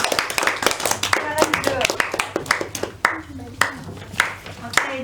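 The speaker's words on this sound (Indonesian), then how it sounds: "beri tepuk tangan" Students in a history classroom clap at the teacher's prompt, loose irregular claps scattered through the room while a voice talks over them.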